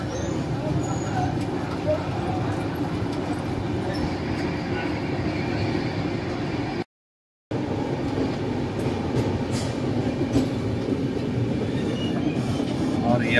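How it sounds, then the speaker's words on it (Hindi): Rajdhani Express train pulling out of Ranchi station, a steady rumble with faint rail clatter filling the scene while someone talks over it, broken by a brief silent gap. "अपना ट्रेन खुल चुका है, ये रांची स्टेशन का आप देख सकते हैं नजारा"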